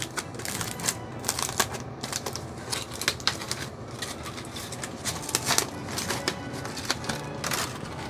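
Crinkly plastic wrap being pulled off culture plates in a lab, giving a steady run of close, dense crackling and rustling with no talk.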